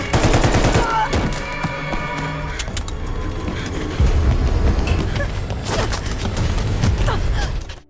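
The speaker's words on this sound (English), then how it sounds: "Amir shoots her dead without a second thought." Gunfire in a film scene where a mafia man shoots a young woman dead: loud rapid automatic bursts open the passage, then scattered sharp shots ring out over a dense, sustained layer of movie sound effects.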